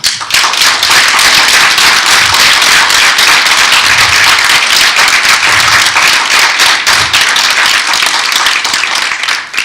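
Dense, loud applause from a conference audience at a townhall event, sustained steadily for nearly ten seconds with no talk over it.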